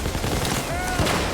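A sniper rifle fires in a video game, heard as a dense, loud burst of gunfire with sharp reports packed into a brief moment, close and continuous.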